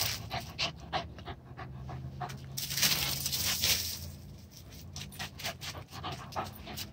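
A dog pants rapidly and steadily up close, quick rhythmic breaths continuing for several seconds, with a brief whimpery rise in the middle.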